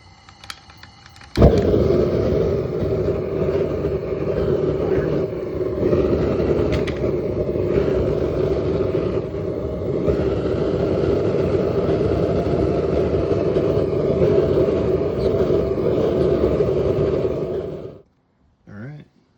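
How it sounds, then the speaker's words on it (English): A gas burner in a DIY home foundry furnace lights suddenly and settles into a loud, steady roar that runs unbroken for about sixteen seconds before cutting off. "Now I will turn on the gas."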